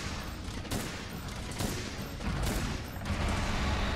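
Heavy bowgun in Monster Hunter World firing pierce ammo against an Uragaan: a dense, steady stream of rapid shots with sharper blasts at intervals, loud throughout.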